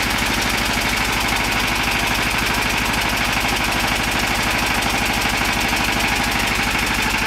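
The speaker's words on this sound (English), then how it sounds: "The controller runs it through a cool down phase where the generator is offload." A generator runs off-load through its controller's cool-down phase, a loud, steady mechanical drone with a rapid pulsing knock that holds unchanged throughout.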